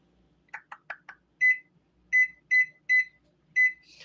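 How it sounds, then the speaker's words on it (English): Kitchen timer on a stovetop setting with watermelon candy cooking: four quick button clicks, then five sharp electronic beeps in an uneven series, each clear and close with nothing else around them. "And then put the timer on for 7 minutes."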